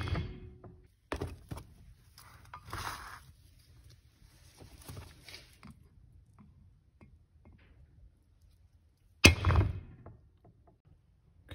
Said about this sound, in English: I need to stake that bearing into those two little pockets again,